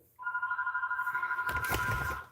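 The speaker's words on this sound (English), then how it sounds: "phone's ringing" A telephone bell rings in a fast, continuous warbling trill for about two seconds, fairly close, then stops abruptly amid a burst of clatter.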